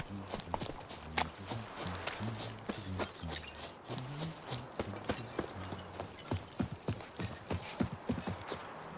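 Hooves of Geralt's horse Roach in The Witcher 3 clip-clop in a brisk, even rhythm, sharp and close, over soft game ambience with a low, droning background and no talking.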